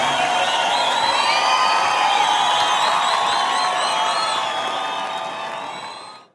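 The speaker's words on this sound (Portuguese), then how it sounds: "Dê uma salva de palmas para o nosso Jesus Cristo, porque ele merece." A live Christian worship concert audience in Fortaleza erupts in loud, sustained applause with cheering and high whoops, a dense crowd roar that holds steady before fading out at the end.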